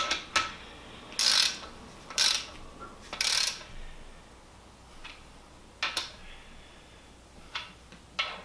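A torque wrench clicks as it snugs connecting rod bolts during a BMW N54 engine rebuild. Sharp ratchet bursts recur roughly once a second, close and fairly loud, with softer clicks in between.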